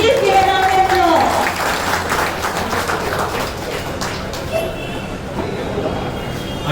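Clapping from a crowd at a company's first anniversary celebration as a director is welcomed, loud at first and then thinning, with some background voices and tonal noise mixed in.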